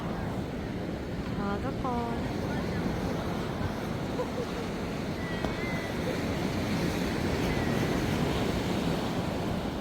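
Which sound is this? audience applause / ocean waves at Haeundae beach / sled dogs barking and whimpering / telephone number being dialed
ocean waves at Haeundae beach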